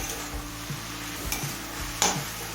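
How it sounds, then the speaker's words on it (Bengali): Broccoli leaf mash frying in a pan on a medium flame, a steady close sizzle with occasional dull knocks and two brief scraping stirs, no voices. "এবার মিডিয়াম ফ্লেমে কিছুক্ষণ ভেজে নেব"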